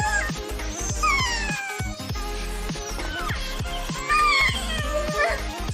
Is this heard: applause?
no